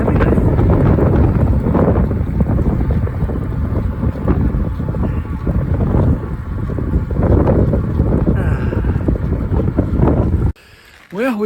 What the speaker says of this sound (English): the wind was terrible